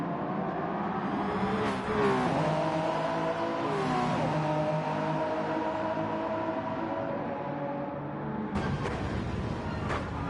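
Race car engine in a racing game, a steady mid-level drone as the car trundles slowly down the pit lane, with harmonic engine tones shifting slightly and a brief louder burst near the end.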